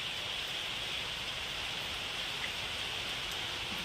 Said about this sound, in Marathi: जोरात पाऊस सुरू झाला